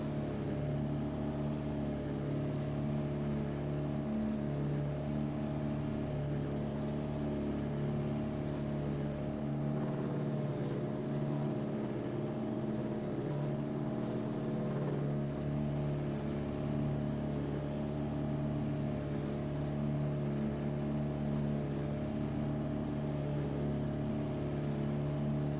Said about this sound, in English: The engines are revving up,